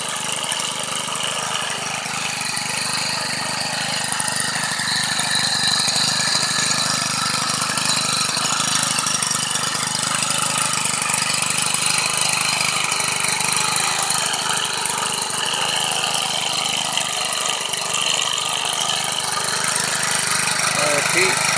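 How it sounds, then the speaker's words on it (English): Cub Cadet 4175 four-stroke string trimmer engine running steadily, a loud, even buzzing drone that holds without a break for the whole stretch. "this is a Cub Cadet 4-stroke trimmer for sale on Kijiji"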